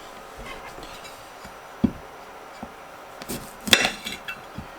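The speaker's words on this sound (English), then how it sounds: "Garlic. All right, let's chop that up." Garlic chopped with a knife on a cutting board in a home kitchen while cooking tikka masala: a few sparse, quiet wooden knocks and taps at an irregular pace, with a short cluster of louder chops near the end.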